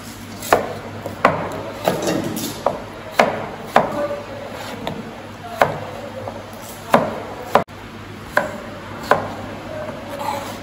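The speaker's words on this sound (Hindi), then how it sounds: "मेरे पास यहाँ पे पील्ड पोटैटो है, इसको भी हम रफली चॉप कर लेंगे" Knife roughly chopping peeled potatoes on a board for leek and potato soup, a steady series of sharp, close thuds repeating about every second, with no talking.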